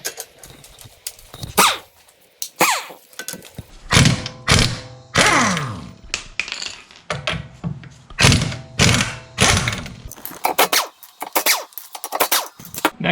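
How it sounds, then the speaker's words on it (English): Lug nuts are loosened and pulled from a car wheel with a leaking tire, a string of clanks, ratcheting rattles and metallic thunks coming in irregular bursts close by. "So next we're gonna remove the lug nuts."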